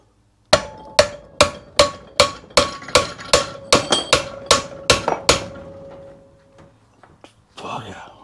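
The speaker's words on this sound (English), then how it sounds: "we'll go direct with the hammer now" A hammer strikes a steel drift on Royal Enfield Bobber girder forks about thirteen times in an even rhythm, each blow ringing sharply and close, then a faint clatter and rustle follow.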